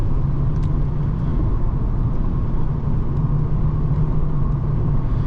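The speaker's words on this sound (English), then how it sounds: "it's a nice distant sound from the V8" Steady low rumble of a Lexus LS 430 V8 cruising, heard from inside the car as a continuous, even drone with a constant level and no talk.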